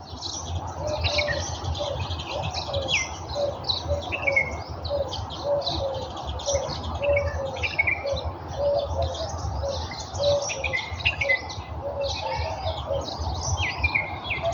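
A hungry pet parrot chirps repeatedly through a home setting, steady mid-pitched calls and tweets running almost continuously at close range over a constant background hum, with no talking.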